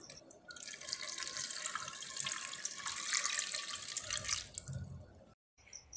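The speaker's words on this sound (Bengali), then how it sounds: "এবার জল দিয়ে দিতে হবে।" Water runs from a tap over potatoes in a pressure cooker, a steady close splashing pour lasting several seconds before cutting off, with no talk.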